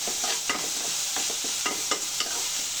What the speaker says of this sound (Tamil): தக்காளியும் சேர்த்து நல்லா வதக்கிடலாம்